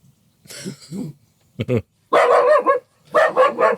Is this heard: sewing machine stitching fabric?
no